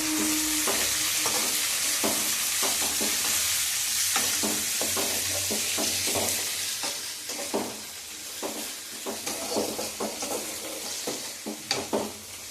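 Onions frying in a pan with tomato added while cooking chitranna (lemon rice), giving a steady close sizzle broken by repeated stirring scrapes and spoon clicks, the stirring growing busier toward the end.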